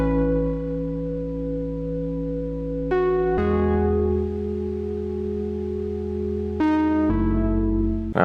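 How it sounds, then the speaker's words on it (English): Sustained synth chords from a Zero synth play a slow lofi progression, rich in harmonics, each chord held for several seconds before shifting, steady and upfront with no voices. "Instead of using a piano, I went for a synth from Zero"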